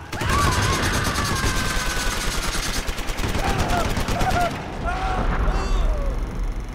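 Battle gunfire in a short film, with rapid, loud continuous bursts of automatic weapons and volleys layered over shouting voices and pauses, close and intense throughout.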